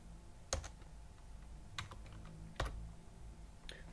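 Computer keyboard keys are pressed at a desk while entering an Excel formula: a few sharp, distinct clicks spaced about a second apart over a quiet background, with no talking.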